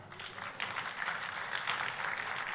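A church congregation claps during a sermon, a dense, even wash of applause heard from a moderate distance that lasts throughout.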